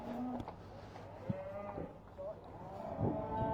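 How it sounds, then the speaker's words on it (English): Hereford cattle moo at an agricultural show, several drawn-out lowing calls at moderate distance over a busy outdoor background, with brief knocks between calls. "All the cattle are arriving."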